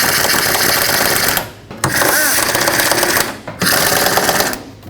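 Power tool or ratchet tightening the two 10mm bolts that hold the fan shroud on a 2003-2021 Chevrolet Express van, loud steady mechanical whirring in three bursts separated by brief pauses.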